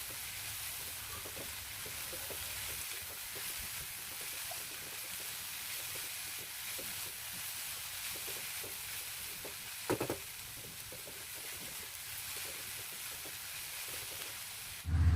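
Sambal chili sauce cooks in a pan with a steady, dense sizzle and hiss that runs unbroken throughout, with one brief clink of a utensil partway through.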